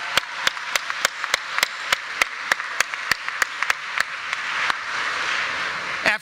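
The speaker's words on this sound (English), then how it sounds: "Round of applause." At a university commencement, a graduating class and crowd are applauded. Loud, evenly spaced single claps ring out close by over a soft bed of distant crowd clapping that swells near the end.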